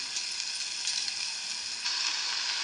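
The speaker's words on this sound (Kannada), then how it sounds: "ಈಗ ಮಡ್ಕಿ ಕಾಳು ಹಾಕಿ ಅದಕ್ಕೆ ಮಿಕ್ಸ್ ಮಾಡ್ಬೇಕ್ರಿ" Moth beans stirred into a hot pan with seasoning, a steady loud sizzle and frying hiss running without a break, with no voices over it.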